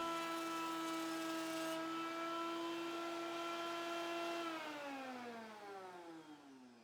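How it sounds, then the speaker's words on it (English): An electric jointer squaring the edge of a wood board gives a steady tonal whir that drops in pitch as the machine winds down near the end, alone and moderately quiet. "you have to pass it through the jointer a couple times to make sure it's nice and square"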